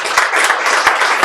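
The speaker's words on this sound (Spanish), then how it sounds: "Un aplauso para Fátima" Audience applause at a feminism forum, brief and fairly loud, with dense clapping throughout and a few sharper individual claps standing out.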